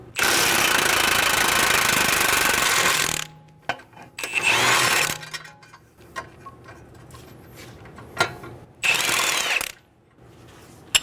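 An 18mm socket and wrench work a ball joint nut loose on a 2011-2014 Hyundai Sonata front suspension: a loud burst of ratcheting and rattling, then several shorter clicking and grinding bursts between quiet pauses, close up.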